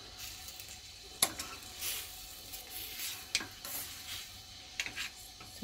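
Strawberry preserves cook in a pan over high heat for a pancake topping, giving a soft steady sizzle with occasional sharp clicks and scrapes from stirring.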